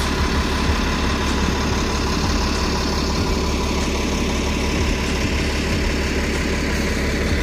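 Motor coach bus engine idling in San Francisco city transit service, a steady, loud low rumble with constant vibration throughout, no talking over it.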